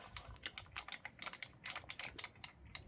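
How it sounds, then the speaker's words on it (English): An ArcadeR arcade joystick clicks again and again as its stick rotates through the positions, giving a quick, irregular run of crisp, close plastic clicks with no voices. "Nice and clicky. It clicks as it goes round the positions."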